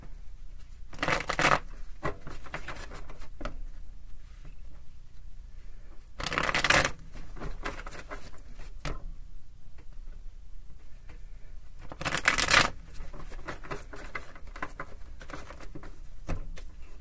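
Tarot cards shuffled in three distinct loud riffling bursts a few seconds apart, each followed by softer tapping and handling of the deck in a quiet room.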